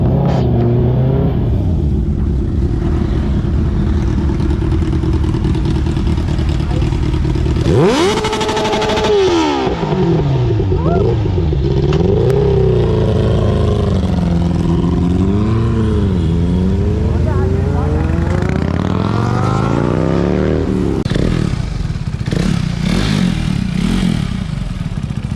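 A Kawasaki Ninja H2 motorcycle engine idles, then revs hard in repeated sharp rising and falling bursts, loud and near, with people talking over the engine at times.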